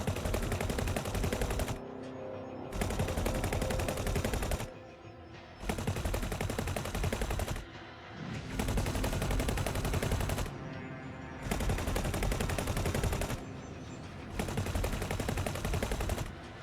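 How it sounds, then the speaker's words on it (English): Spaceship guns fire in long, loud automatic bursts in the space game X4: Foundations, each volley lasting about two seconds, separated by short lulls. "let's just start shooting it"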